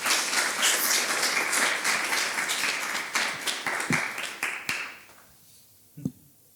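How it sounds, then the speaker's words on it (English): An audience at a tech talk gives a round of applause, dense clapping at full strength for about four seconds before thinning out and fading away, with a single knock near the end. "Round of applause for AI."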